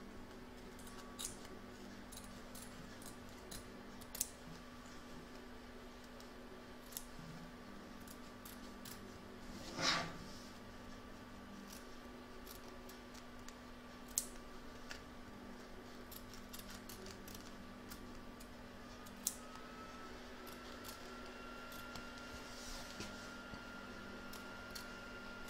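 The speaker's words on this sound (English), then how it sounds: "turn your hoop over and trim around the edge of the foot" Small scissors snip stabiliser away around an embroidered baby-feet applique on the back of an embroidery hoop. Scattered faint clicks sound over a steady quiet hum.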